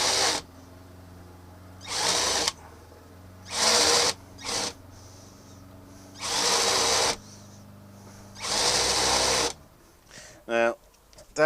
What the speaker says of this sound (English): The final bit is a bit of countersink.